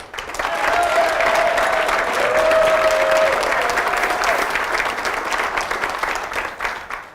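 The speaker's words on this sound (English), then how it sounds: "I don't know if the Oilers get that big a round of applause," A civic audience at the Grande Prairie State of the City address gives a councillor a long, loud round of applause, steady clapping from a big crowd with a whistle or two before it tapers off.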